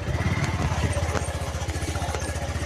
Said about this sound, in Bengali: ও, ওটা ইন্ডিয়ান মোটরসাইকেল।